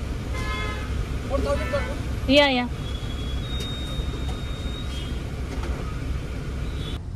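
Road traffic in India rumbles steadily, with a short car horn toot standing out briefly, and a voice speaks a single word over the din.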